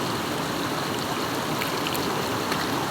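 Spring water in Japan flowing steadily, a loud, continuous close rush of running water with no voices.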